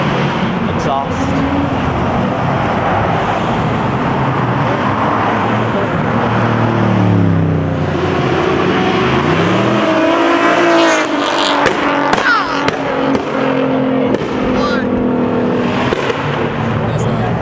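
A 2000 hp underground-racing STO car revving hard at a Cars and Coffee-style meet in Morrisville, a loud sustained engine roar with rising and falling revs as it pulls away, mixed with crowd chatter.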